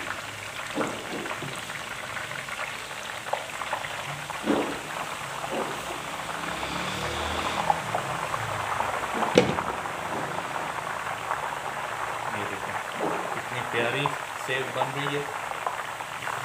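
Besan sev frying in hot oil, a steady soft bubbling and sizzling hiss that runs throughout, with someone talking over it and occasional clinks of utensils.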